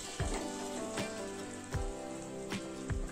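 A kadhi tadka of red chili sizzles and crackles in hot oil, a steady close fry with several sharp pops and spatters standing out at intervals.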